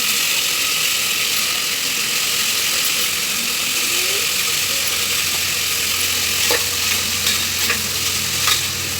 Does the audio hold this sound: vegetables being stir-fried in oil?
yes